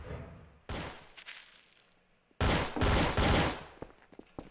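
Gunfire in Garry's Mod TTT: a first burst of rapid shots, a pause, then a longer, louder rattle of automatic fire with scattered single cracks trailing off, close and harsh.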